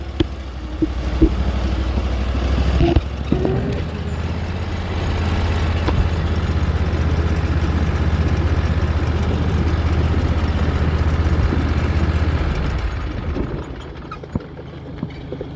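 A tractor engine idles with a steady low rumble, running evenly for most of the stretch before fading down near the end, with a few knocks and clanks.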